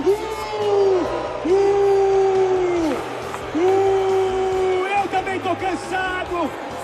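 Large crowd booing a government, loud sustained jeers and yells in long surging waves with brief lulls between them.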